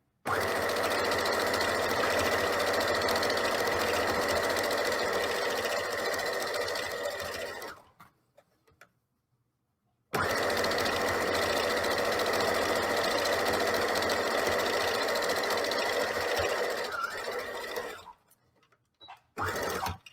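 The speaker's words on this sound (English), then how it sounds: "I do not normally sew this fast, but I'm trying to be quick" A sewing machine runs fast, stitching beeswax food wrap fabric in two long loud bursts of rapid whirring, each followed by a short pause and a brief restart near the end.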